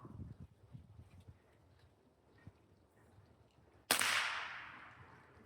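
A pellet gun fires a single loud, sharp crack that rings out and decays over about a second, following a stretch of quiet rustling and low background noise.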